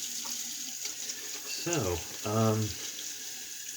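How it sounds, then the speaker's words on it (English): Running tap water rinses a shaving brush at a sink: a steady splashing stream with two louder gushes as the brush goes under, close by, with a brief spoken word at the start. "we will rinse the brush while that dries a little"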